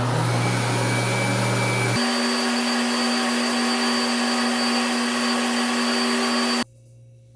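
Chocolate cake batter for a fit chocolate cake, made with 70% chocolate, whirring loudly in a blender at steady speed, with the motor pitch rising partway through before it cuts off near the end.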